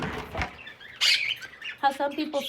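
Bright pet bird chirps and tweets come in short bursts nearby, mixed with a few softer calls and some background rustling.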